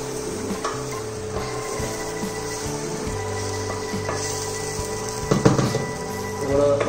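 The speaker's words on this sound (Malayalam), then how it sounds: "ഒന്ന് ഇളക്കി കൊടുക്കാം." Biryani with fried onions and coriander being stirred in a pan, with soft scraping and clinking of a utensil against metal over a low steady sizzle, a sharper clatter near the end.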